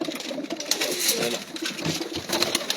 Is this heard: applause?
no